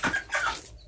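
Aseel hen clucking close by in two short bursts, loud and clear with no talk, the second burst trailing off into quiet.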